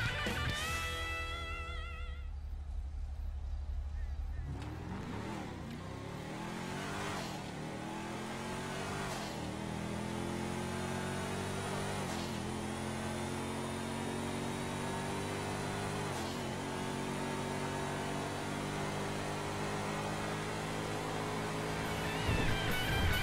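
A modified Brawler car in GTA 5 starts loud and then accelerates steadily, its engine revving up through repeated gear shifts in a continuous, close roar with no talking.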